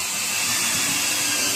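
A power drill drives a cheap screw into a wall stud with a steady, loud, continuous whirring grind that runs unbroken throughout, with no talking.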